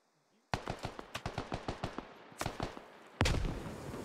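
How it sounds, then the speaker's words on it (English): Grenade blast in the video game SquadOps: a steady string of sharp, close gunshots is followed by a louder burst and then a heavy, booming explosion that rolls on to the end. "Bust Over Man Stan just took a nade to the face"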